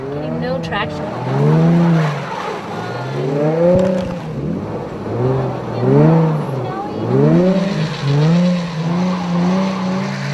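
A car stuck in mud revs its engine again and again in rising and falling surges while the wheels spin without traction, loud and close, with repeated pulls across the whole stretch.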